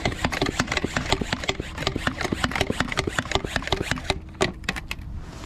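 A Caterpillar 3204 diesel engine in a wheel loader idles steadily, its rapid even knocking filling the whole clip at close range, with a brief louder clatter near the end.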